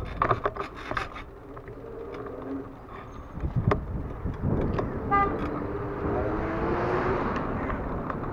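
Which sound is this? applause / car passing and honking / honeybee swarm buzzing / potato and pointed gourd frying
car passing and honking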